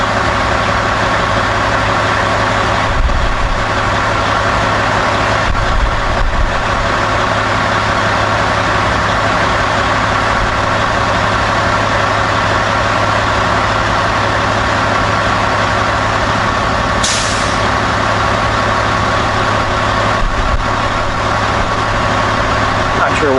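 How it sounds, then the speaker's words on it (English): A vehicle engine idles on the car deck of the Kootenay Lake ferry, a steady low rumble holding evenly throughout without revving. "Not sure why he started up his engine that early."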